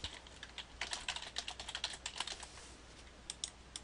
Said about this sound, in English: You can actually type it right in there